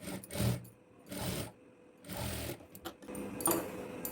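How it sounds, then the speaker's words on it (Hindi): Long stitches run along a blouse hem on a sewing machine in four short, quiet bursts with brief gaps between them. "सिलाई बड़ा टाका का लगाएंगे।"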